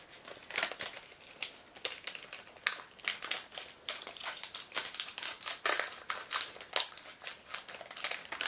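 Scissors cut through crinkly plastic packaging of a Popin' Cookin' Tanoshii Cakes candy kit, crisp snips and rustling crackles repeating irregularly and close for several seconds.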